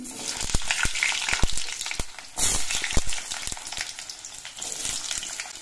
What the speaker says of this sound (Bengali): এবার সর্ষেটা একটু ভাজা হয়ে যাওয়ার পর এর মধ্যে আমি কেটে রাখা আলুগুলো দিয়ে দিচ্ছি।